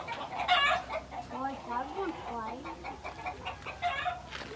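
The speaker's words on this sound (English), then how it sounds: "Hey, there's more chickens over there." Chickens clucking and calling in a farmyard in Mexico, repeated short clucks and squawks from several birds nearby, with people talking over them.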